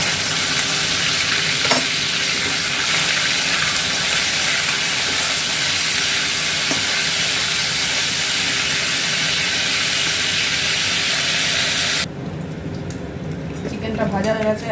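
Chicken frying in hot white oil, a strong, steady, close sizzling hiss that runs unbroken before cutting off abruptly near the end, with a person talking over it.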